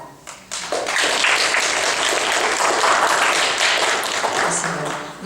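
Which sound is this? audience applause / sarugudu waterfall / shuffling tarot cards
audience applause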